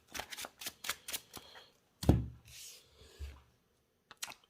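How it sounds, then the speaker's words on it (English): A deck of Yu-Gi-Oh-style trading cards, a dinosaur deck, is shuffled by hand with a quick run of close, crisp riffling clicks, then a soft thump and a few scattered card sounds. "You shuffle, of course, your deck, like the rules."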